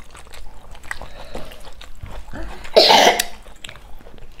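A person coughs once sharply and loudly at close range during a meal at home, preceded by quiet throat sounds and light eating noises.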